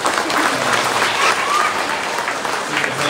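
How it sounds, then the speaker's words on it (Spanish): A congregation claps for a little girl dressed as the Virgin of the Rosary during an All Saints' Day Mass in Mexico, a sustained, even round of many hands, moderately loud and unbroken. "es un fuerte aplauso a esta pequeña presencia"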